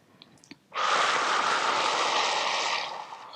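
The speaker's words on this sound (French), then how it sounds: "Peut-être expirer par la bouche." A long, steady exhale through the mouth during a yoga breathing exercise, a broad airy rush lasting about two and a half seconds after a brief silence, close and fairly loud, then fading.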